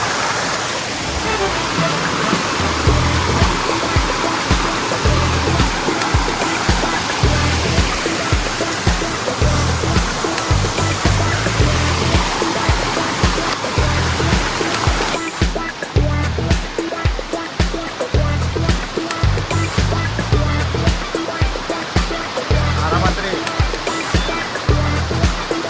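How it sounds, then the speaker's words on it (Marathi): A waterfall in Konkan seen from a scooter ride, heard as a loud, steady broadband rush of water and wind with a rhythmic thudding underneath, continuous throughout without talk. "हा धबधबा दाखवतो तुम्हाला."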